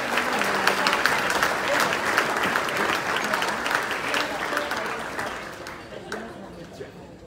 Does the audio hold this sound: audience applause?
yes